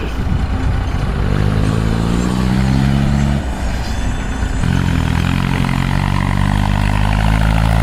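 A Mahindra tractor engine runs loud and close, a steady low diesel throb that dips briefly near the middle before carrying on, with no talk over it.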